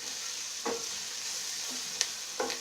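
Curry leaves and onions fry in a pan for a Kerala-style chicken curry, a steady close sizzle broken by a few soft stirring scrapes.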